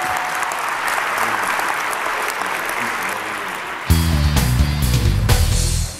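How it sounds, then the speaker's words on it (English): A crowd claps steadily for several seconds, then music kicks in loudly partway through as the applause continues underneath. "Let's give Bernie Dorman a round of applause, if you please"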